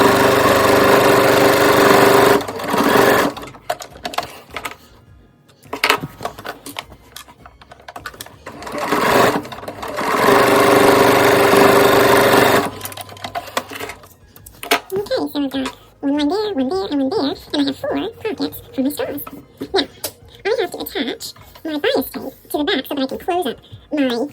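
A sewing machine stitches bias tape in bursts of steady whirring mechanical chatter separated by pauses, and someone talks between the runs.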